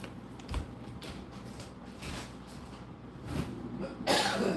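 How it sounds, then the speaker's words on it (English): A few muffled coughs and throat noises sound close by over a steady low background hum, with a louder harsh burst near the end. "I hate coughing."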